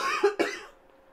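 Two quick, close coughs in an indoor scrapbooking craft session, the second following sharply on the first, then fading into near silence.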